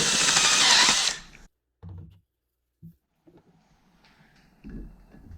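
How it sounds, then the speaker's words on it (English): A power drill countersinking a screw hole in wood gives one loud, close whirring burst of about a second, then stops. A few short knocks and handling thuds follow in near silence. "And I might as well countersink this one just a little bit."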